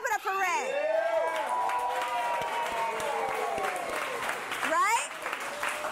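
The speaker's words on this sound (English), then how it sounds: "Clap it up for Ray." An audience applauds and claps for a man's weight-loss milestone at a talk, the clapping running steadily beneath a swooping, animated voice with some cheering and chatter mixed in.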